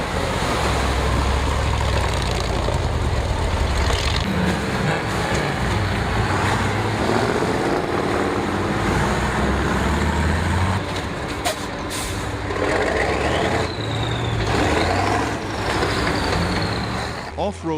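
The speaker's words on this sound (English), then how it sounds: "they used their all-terrain vehicles to cross it" Heavy off-road trucks grind through a deep hole of mud and water with loud, sustained engine roar, air-brake hisses and rumbling from nearby, with voices talking over the din.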